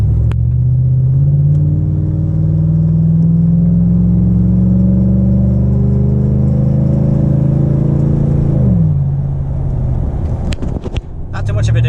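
A Chevrolet Silverado pickup with a Superchips performance tune pulls uphill at half throttle, its engine droning steadily and rising in pitch for several seconds before dropping sharply on a shift, then a rough burst of rumble.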